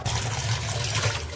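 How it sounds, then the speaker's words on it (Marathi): Water running and splashing steadily while raw chicken is washed in a kitchen, with lemon juice added, close and continuous without pause. "चिकन धुवत असताना त्यामध्ये मी थोडासा लिंबाचा रस घातलेला आहे"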